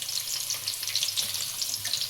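Spices for village-style egg biryani fry steadily in a pan, giving a close, continuous hiss and crackle with small bubbling pops and no voices.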